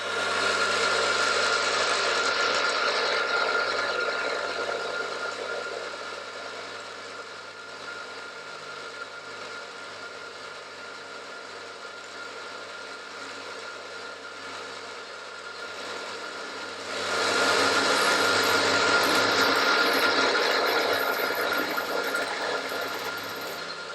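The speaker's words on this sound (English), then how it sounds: "I'm changing that for a 4mm drill, but that depends on the size of the taps" A power drill with a 4mm bit whirs steadily through a hole, easing slightly in the middle then rising again, loud and close with no voices.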